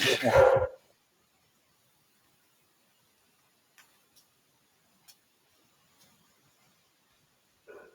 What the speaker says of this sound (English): Oh, sorry, my dog is going crazy.